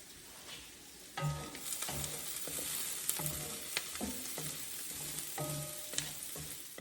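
Pourable sourdough tortillas cooking in a hot pan give a steady soft sizzle and frying crackle, with a few clearer clinks and scrapes against the pan spaced through the clip; no one talks.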